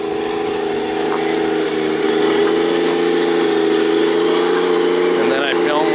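The motor of an RC scale dump truck, left frozen and untouched for six months, whines steadily under throttle, a continuous, fairly loud buzzing drone with slight rises in pitch.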